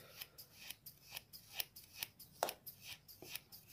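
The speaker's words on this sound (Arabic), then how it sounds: "نمسك المقص بتاعنا ونحطه في الملح اهو كده بهذه الطريقة" Metal scissors snipping into ordinary medium-grain salt to sharpen the blades, a quiet, close series of about a dozen crisp cutting crunches in a steady rhythm, with no talk.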